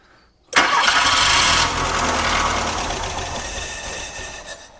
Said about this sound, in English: That's a quiet engine